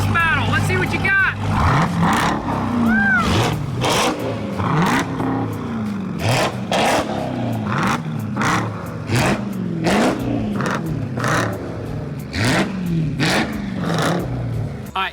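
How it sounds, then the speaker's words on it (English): Loud, close car exhaust revving in repeated bursts, the engine roaring up and dropping back again and again while voices talk underneath. "Now let's do a little exhaust battle."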